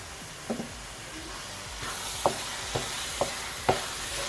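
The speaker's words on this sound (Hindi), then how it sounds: "अब हमने इसकी आंच तेज़ कर दी ताकि इसकी भुनाई अच्छी तरह से हो जाए।" Carrot halwa roasts over a high flame as grated coconut is stirred into it, giving a steady sizzling hiss with a few soft, evenly spaced scrapes of the stirring spoon, close and moderate in level.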